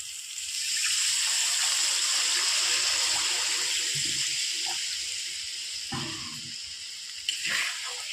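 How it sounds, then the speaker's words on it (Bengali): Water poured into a pan of cooked-down spices for a spicy potato and poached-egg curry, a loud steady hissing rush that fades slowly over several seconds, with a few brief clinks near the end and no talking. "আমার কষানো হয়ে গেছে এবার আমি দিয়ে দেবো জল"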